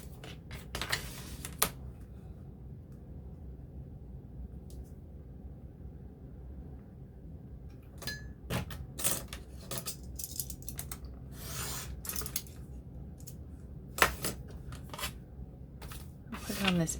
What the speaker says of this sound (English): And I'm going to cut another strip.